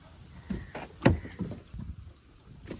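People climb across a wooden fishing boat on water, making a few irregular hollow thumps and creaks of wood, one heavier knock standing out, close by with no talking.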